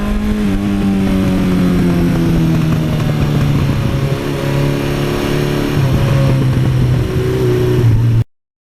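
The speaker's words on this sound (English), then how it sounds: "Boy, that is one bulletproof engine." A 1982 Suzuki GS1100E motorcycle engine with about 73,000 miles revs steadily and loudly close by, its harmonic drone sliding slightly in pitch across several seconds with no talk over it.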